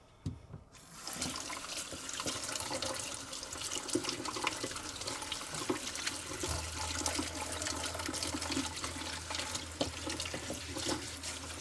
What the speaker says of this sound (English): we're just going to rinse it out with warm water